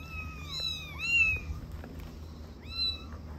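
Barn kittens meow in a few high, wavering calls, two close together early on and another near the end, fairly close over a low steady background hum.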